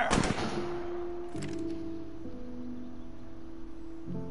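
Pistol shots in the video game A Way Out: a sharp crack at the start, then two softer reports spaced a few seconds apart over a quiet, humming background.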